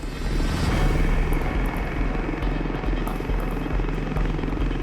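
Lynx and Gazelle military helicopters fly past together with loud, continuous rotor thumping and engine roar, close and dominant for the whole stretch.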